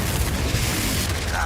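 A Confringo spell blast in Hogwarts Legacy bursts as a single heavy, rumbling boom up close, filling the moment with a dense low roar.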